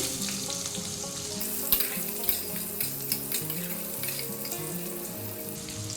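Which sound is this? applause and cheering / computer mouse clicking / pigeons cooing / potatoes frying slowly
potatoes frying slowly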